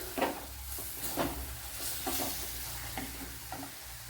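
Chili powder roasting in a pan for Kerala mulaku rasam, with soft sizzling and repeated scraping stirs of a spoon against the pan, fairly quiet and without talk.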